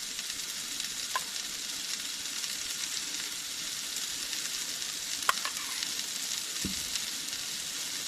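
Burgers frying in a pan give a steady, close hiss of sizzling with a few faint clicks and taps, no voices.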